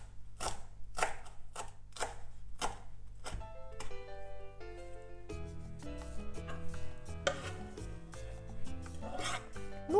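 A knife chops finely through dill for a cabbage and cucumber salad, starting with a run of sharp, evenly spaced taps on a board close by, then continuing as quieter, quicker cutting under a sustained musical backing.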